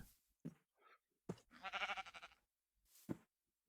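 Sheep from the TerraFirmaCraft video game bleat in a few short, quiet cries spaced across the moment, with silence between them.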